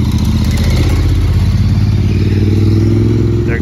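An Aprilia Tuono V4 Factory motorcycle engine runs at a street bike night, a loud, steady low rumble that swells slightly toward the end, with a faint clatter over it.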